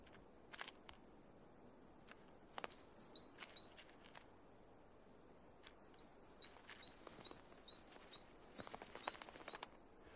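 Small tits calling in a frozen winter Siberian forest: repeated short high chirping notes in two bursts, fairly close and clear over a quiet background, with a few sharp clicks and twig snaps between.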